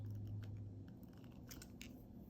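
Wire cutters snipping 24 gauge jewelry wire while making a cross pendant, a few faint, quick clicks over a low steady hum.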